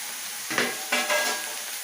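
Onion cooking gently in a pan over low heat, with a soft steady sizzle and a couple of brief stirring scrapes near the middle, close and fairly quiet, no voices.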